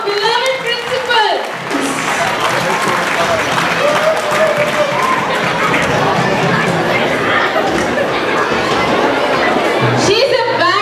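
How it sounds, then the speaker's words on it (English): Applause for the principal at a school annual day celebration: a large crowd claps and cheers steadily at close range, mixed with chatter and whoops, the clapping continuing throughout. "Please give her a big round of applause"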